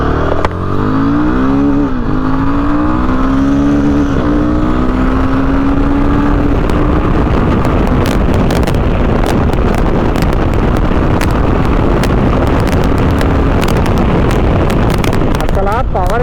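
A Royal Enfield Himalayan 450 motorcycle engine on a ride, its tone climbing and falling through rising revs, then settling into a constant loud roar buried under heavy wind buffeting.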